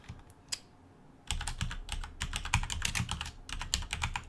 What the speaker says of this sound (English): you need to type in a summary title